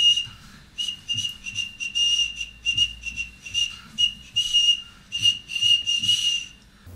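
A pasta noodle built to whistle, a Pfeifnudel, is blown into, producing a series of short, thin, reedy toots in an irregular rhythm, near and fairly clear, with breathy hiss between them and no talking.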